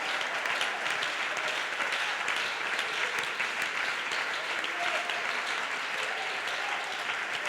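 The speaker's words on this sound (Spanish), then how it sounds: "Aplauda fuerte a su presencia." A church congregation at an IPUC service in Cali applauds loudly and continuously, a dense, even wash of clapping with no talking over it.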